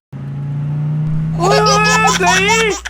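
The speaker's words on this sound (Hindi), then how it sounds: "अरे उसे छोड़ो, आओ कार चलाएं।" Cartoon car engine starting up with a steady low drone, a voice talks over it and then a string of higher bursts follows.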